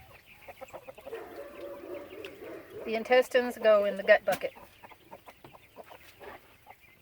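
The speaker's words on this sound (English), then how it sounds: "the chickens are very curious" Backyard chickens clucking close by, with a short burst of loud, rhythmic clucks in the middle and quieter cackles around it, while a person talks over them.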